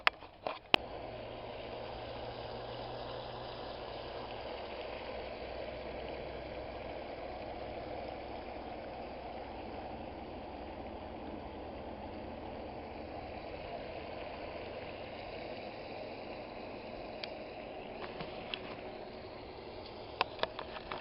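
A home made sluice runs with water, giving a steady, even rush of flowing liquid that holds at a constant level throughout, with a few faint knocks near the end.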